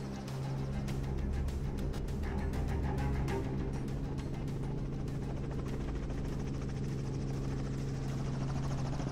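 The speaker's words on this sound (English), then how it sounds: "we get into a helicopter and locate them from the air." A helicopter's steady rotor chop and engine roar, loud and continuous throughout, with no voices.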